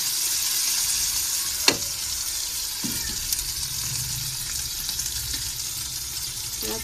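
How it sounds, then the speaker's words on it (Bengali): Goat tripe sizzles steadily in a hot pan, a continuous frying hiss with a couple of sharp clinks and stirring scrapes partway through, no voices. "ভুঁড়িটা ভাজা কি করে ভাজা হয়ে গেছে।"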